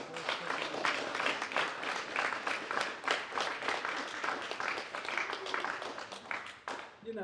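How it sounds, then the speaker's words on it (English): Audience clapping steadily at a gallery talk, a dense, even applause held for several seconds and fading away at the end, moderately loud and close. "They deserve a round of applause."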